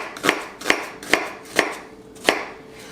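A knife chops through vegetables on a cutting board while enchiladas are being prepared, giving five sharp, evenly spaced knocks with a short crunch on each cut. The chops are close and distinct, with no voices.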